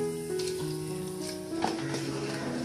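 Almonds roasting in a pan give a steady close sizzle with faint stirring scrapes, and no one speaks.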